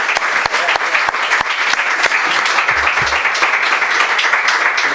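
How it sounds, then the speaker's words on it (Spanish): An audience at a seminar on Europe breaks into sustained applause, many hands clapping in a dense, even patter with a few sharper individual claps standing out, loud and close throughout. "yo creo que le damos un aplauso a Belén."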